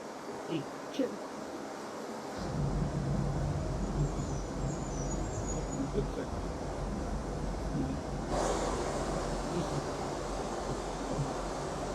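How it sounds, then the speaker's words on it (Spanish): Water in the Balsaín countryside, with drops gathering into a rushing stream: a steady, broad rush of flowing water that swells in after a quieter start and carries on continuously. "poco a poco ese sutil, ese minimalista sonido va sumando gotas y genera estos rumores"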